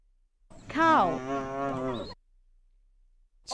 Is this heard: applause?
no